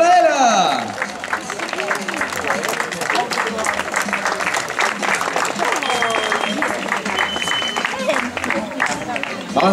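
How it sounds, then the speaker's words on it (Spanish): Outdoor crowd applauding a runner at the finish of a popular footrace in Carballedo, sustained clapping mixed with crowd chatter and calls, fairly loud and steady throughout with brief voices over it. "Un fortísimo aplauso para ella."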